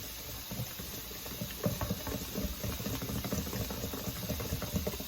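Pancake batter with a pinch of salt whisked in a bowl, a busy close stream of rapid wet tapping and sloshing clicks, steady and alone.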